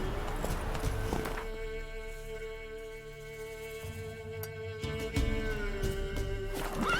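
Roach the horse's hooves clip-clop in The Witcher 3, a steady walking rhythm of close hoof strikes with a brief pause midway, accompanied by soft tack and ambient game sounds.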